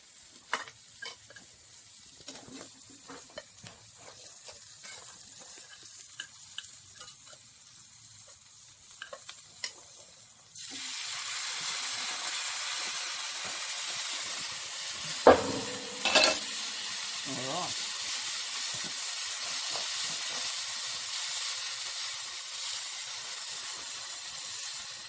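Chopped sausages hit a hot pan partway through, switching from quiet stirring and clatter to a loud, steady sizzle and hiss of frying fat, with a few sharp clanks of a utensil against the pan.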